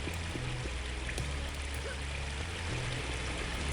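Water flowing steadily through water passages in the original Unreal video game, a continuous rushing stream with a low, even trickle and no one talking.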